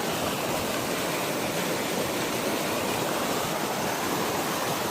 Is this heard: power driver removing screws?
no